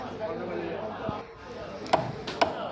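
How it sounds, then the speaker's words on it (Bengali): A large katla fish being cut at a busy fish market, with a few sharp chopping strikes heard under a murmur of nearby chatter and market noise. "একটি কাতল মাছ কাটা হচ্ছে এখানে দেখুন বড় মাছ কাটা একটু সমস্যা"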